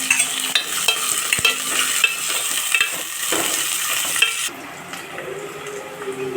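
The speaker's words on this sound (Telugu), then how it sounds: "పచ్చిమిర్చి వేసుకుంటున్నాము." Green chillies and sliced onions fry with curry leaves in a pan, a loud, busy sizzle with constant stirring scrapes that drops to a quieter frying hiss near the end.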